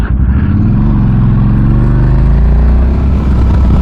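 Motorcycle ridden for the first time after a top-end rebuild with reconditioned heads, new rings and cam chains; loud, close engine drone with wind rumble, pitch rising gently as it pulls along.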